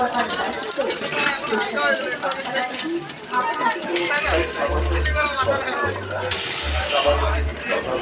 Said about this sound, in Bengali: ধানগুলো ওখানে সুন্দর করে ভাজা হচ্ছে।